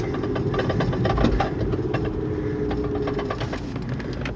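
A car engine idles just after firing up, a close, steady rumble with a regular pulsing throb and faint ticking on top, even in level throughout and with no talk.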